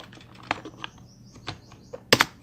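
Keyboard typing while writing a letter in Microsoft Word 2010, a few scattered close key clicks with a short burst of louder taps near the end, no talking.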